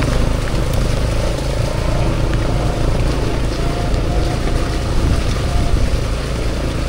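A motorbike rides along a rural road through the hills between Anyer and Carita, approaching an uphill climb; its engine drone and wind rush form a loud, steady, close rumble throughout with no talking.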